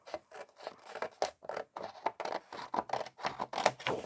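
Scissors snipping around the paper edge of a small handmade 18.5 cm flower bouquet, a close, quiet series of crisp irregular cuts with short gaps between them.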